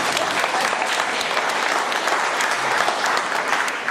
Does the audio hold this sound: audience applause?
yes